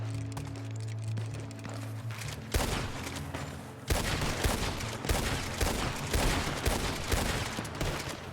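Rapid gunfire in the Western roleplay game RedM, a dense fusillade of overlapping shots that grows louder and more continuous after a few seconds, with occasional hoof clip-clop in the mix.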